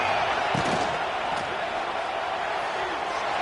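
A roaring football stadium crowd fills the air, a dense, steady wash of cheering and noise from thousands of fans as the home side urges its defense toward a red zone stop.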